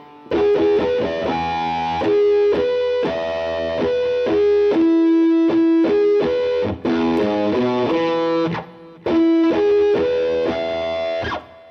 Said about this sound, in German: Aber das sind Harmonics.